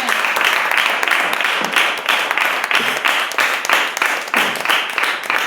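Applause from a church congregation during a sermon, a dense spread of hand claps that stays steady and fairly loud for several seconds, with faint voices mixed into the clapping.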